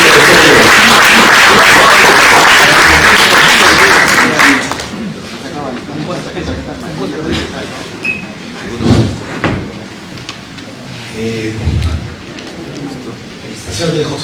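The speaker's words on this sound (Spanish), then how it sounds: "Recibámoslo con fuertes aplausos" Loud audience applause fills a housing-development forum hall, a dense burst of clapping that lasts about four seconds before dying away under a man's speech.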